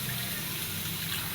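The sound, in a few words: water being poured into the cooking pot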